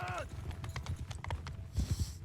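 Cavalry horse hooves clip-clop rapidly and steadily in a Mount and Blade Bannerlord 2 battle, a dense galloping patter mixed with other battlefield noise throughout.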